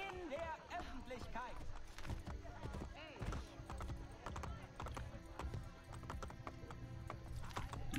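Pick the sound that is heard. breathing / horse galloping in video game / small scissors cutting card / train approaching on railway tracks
horse galloping in video game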